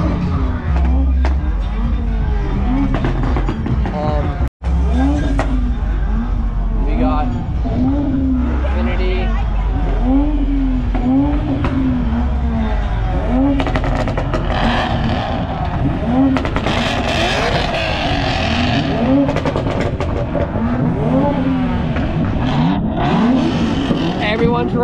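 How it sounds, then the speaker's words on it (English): Cars including a Toyota Supra, a GT and a Lexus rev their engines loudly at Fuel Fest in Dallas, Texas, with repeated rising roars and tire squeal over a constant babble of crowd voices. "we got the Supra right here revving, we got the GT revving, we got that Lexus revving, we got them over there revving"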